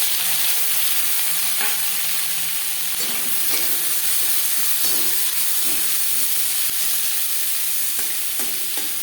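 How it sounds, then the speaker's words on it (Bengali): Onion, tomato and green chili fry in oil in a wok already used for frying fish, giving a continuous close sizzle and hiss broken by occasional stirring scrapes and clatters. "মাছ ভেজে নেওয়া কড়াইতে আবারও তেল দিয়েছি দিয়ে দেব পেঁয়াজ টমেটো কাঁচা লঙ্কা"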